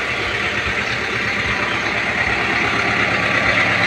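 A one-owner 2022 Kubota M6040 farm tractor idles close by, its diesel engine holding a steady, even rumble with a low rhythmic pulse throughout.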